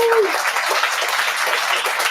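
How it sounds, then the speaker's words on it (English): An audience at a 2023 graduation ceremony claps in dense, sustained applause, filling the hall evenly after a brief tone at the start. "Please give them another round of applause."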